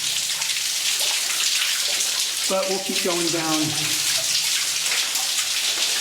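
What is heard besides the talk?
water pouring out of rock in a flooded mine tunnel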